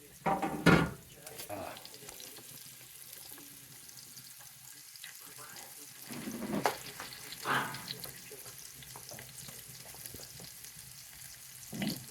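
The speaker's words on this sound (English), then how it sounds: "I'm ready to put the pork in the pot" Pork chunks go into hot oil in a pot for a red wine stew, bringing a soft, low sizzle. A few sharper bursts of clatter and bubbling break through, with quiet stretches in between.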